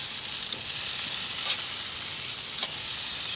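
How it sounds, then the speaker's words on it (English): Skinny springtime asparagus marinated in Asian flavors sizzles over the hottest part of a grill, a steady bright hiss with a couple of faint crackling pops, close and continuous with no talking. "nice skinny springtime asparagus, and it's right over the highest part of the heat"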